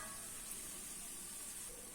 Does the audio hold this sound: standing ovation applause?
no